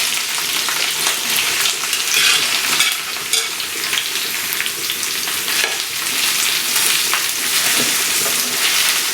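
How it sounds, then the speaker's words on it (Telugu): Bottle gourd pieces being stirred in hot oil with onion and ginger-garlic paste, making a loud, continuous, dense sizzle with scraping stir strokes mixed in, close up. "ఇది బాగా ఒక్కసారి కలిపిన తర్వాత మొత్తం ఈ ఆయిల్లో ఒక్కసారి ఇలా కలపాలి."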